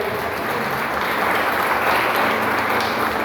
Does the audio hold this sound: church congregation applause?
yes